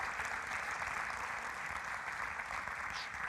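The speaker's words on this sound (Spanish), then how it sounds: "dale un aplauso al Señor, dale un aplauso al Señor" A church congregation applauds during a sermon, a dense, even wash of clapping that holds steady and fairly faint throughout the short stretch.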